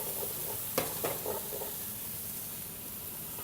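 Onion and minced shallot are added to a pan of rendered pancetta, where they fry with a soft, steady sizzle. A few brief clanks of a utensil come early, then the hiss continues quietly and evenly on its own.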